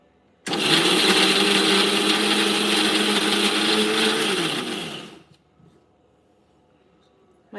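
A loud mixer grinder whirs steadily for about five seconds grinding a watery mixture, its motor pitch dropping slightly as it winds down and stops into quiet.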